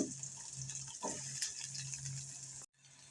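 Onions dropped into hot oil in a pan with crackled mustard seeds sizzle steadily, a bright hissing spatter, close and fairly loud, that runs throughout before cutting out briefly near the end.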